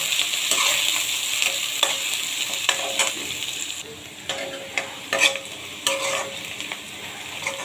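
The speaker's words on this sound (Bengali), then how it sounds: "এখন এটাকে ভালো করে ভেজে নেব" Food sizzles steadily in hot oil with bay leaves and split green chilies while a utensil scrapes and stirs the pan with intermittent clinks.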